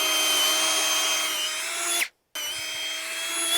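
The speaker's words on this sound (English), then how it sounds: "I'm just making sure that I'm not drilling too deep" Power drill boring into a wooden fence post for a high-tensile H brace, a loud steady whine that runs about two seconds, cuts off briefly, then resumes at the same pitch.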